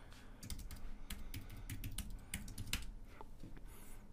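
Rapid typing on a Mac keyboard while entering a terminal command, close and quiet, with bursts of crisp key clicks in an uneven rhythm and a few short pauses, no voices.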